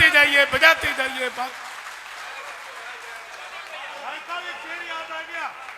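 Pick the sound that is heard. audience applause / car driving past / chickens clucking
audience applause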